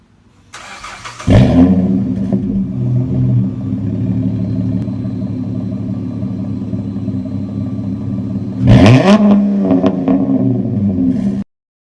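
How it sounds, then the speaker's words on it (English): A car exhaust fitted with a free-flowing, straight-through performance muffler fires up with a sharp rev, settles into a loud steady idle rumble, then barks out another rev before cutting off. "performance mufflers are a lot more free-flowing and straight through inside, so this lets the exhaust gases flow easier, resulting in a louder sound"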